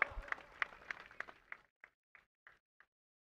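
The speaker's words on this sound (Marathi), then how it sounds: "त्यामुळे टाळ्या पुन्हा एकदा होऊन जाऊ द्यात" Applause for a young cricket player at a village cricket match, a faint scattered clapping that thins out into a few isolated claps before falling silent.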